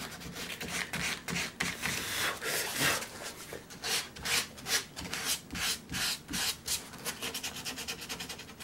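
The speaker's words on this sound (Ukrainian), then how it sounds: "Це наждачка якби трошечки краще вже зализує ворс." A wooden frame is sanded by hand with sandpaper into folds and corners before finishing, giving rhythmic close rubbing strokes that come in bursts with short pauses.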